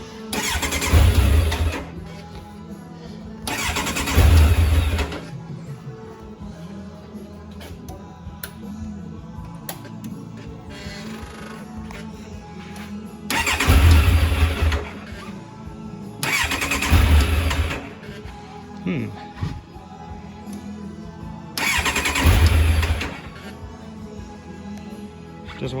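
A 2003 Kawasaki Z1000 motorcycle low on fuel cranks but fails to start, with five separate bursts of starter whir and sputtering engine, each lasting a second or two, spaced by quieter pauses, close and loud.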